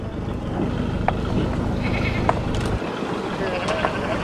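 Sheep bleat intermittently at a New Zealand farm, short cries rising above steady outdoor background noise with a low rumble.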